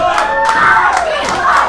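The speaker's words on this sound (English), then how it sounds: "The crowd here in Greensboro chanting," A wrestling crowd in Greensboro at a gauntlet championship match, a loud, dense roar of voices rising and falling in rhythmic chanting bursts, close and continuous.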